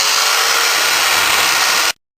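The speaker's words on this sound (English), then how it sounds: "the fastest way to do it, electric chainsaw" An electric chainsaw carves into a block of foam indoors, giving a loud, steady high-pitched buzz that runs continuously for about two seconds and then cuts off abruptly.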